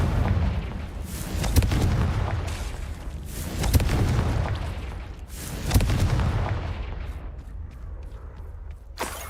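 The Confringo fire spell in the video game Hogwarts Legacy sets off heavy booming blasts, roughly four close explosions in a row, each followed by a rumbling tail that fades.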